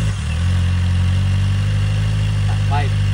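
Stock exhaust on a Kawasaki ZX4RR motorcycle, engine still hot, idles with a steady, loud low drone close by, a short chirp near the end.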